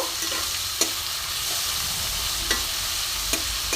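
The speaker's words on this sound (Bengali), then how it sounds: "আমি পেঁয়াজের সাথে আচারটা মিশিয়ে নেব, একটু নাড়াচাড়া করে নেব" Pickle and onions sizzle in a frying pan while being stirred, a steady close frying hiss punctuated by a few sharp spatula scrapes and taps, no voices.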